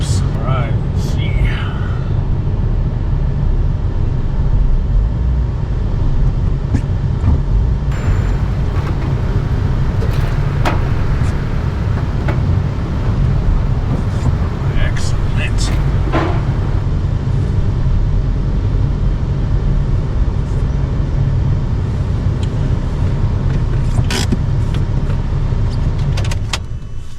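A crashed car being driven down off the ramps of a car hauler, its engine running steadily and loud throughout with scattered clanks and knocks, while a person talks over it.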